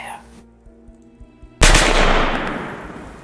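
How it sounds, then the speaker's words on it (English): Gunfire sound effect in a tabletop RPG session: after a quiet stretch with faint tapping, a sudden loud burst of gunfire erupts and decays into a sustained rumbling roar. "It's gunfire."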